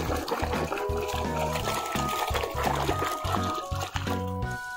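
Water pours and trickles over a toy leopard being washed, a steady liquid splash running through the whole stretch beneath loud, rhythmic background music.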